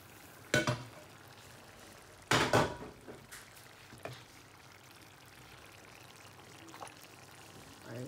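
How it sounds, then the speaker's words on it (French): Shrimps with onions tipped into a simmering pot for a Cameroonian ndolé, two distinct pouring splashes followed by quiet bubbling and a few small clinks of the pot. "je vais renverser mes crevettes avec les oignons dessus et on va laisser mijoter bien ensemble"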